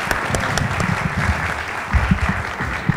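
Audience applause at a DJ Room panel event, a steady mass of clapping with a few sharper individual claps standing out and some low murmuring underneath.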